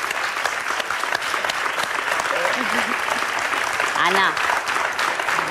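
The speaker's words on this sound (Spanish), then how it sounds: "Vamos a darle un aplauso" Studio audience applause on a television show, loud and sustained clapping with cheering voices rising above it and a brief spoken word mixed in.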